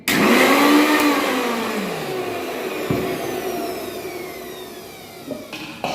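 A mixer grinder grinding moong dal whirs loudly up close, its motor pitch sagging as it slows and winds down, followed by a few small knocks.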